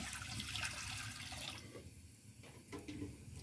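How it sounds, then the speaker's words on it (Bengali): Water pours into a wok (kadai) while a light fish curry with potatoes and taro is being cooked at home. A steady, close splashing gush runs for several seconds and eases slightly toward the end. "আমি কড়াইয়ে জল দিয়ে দিই।"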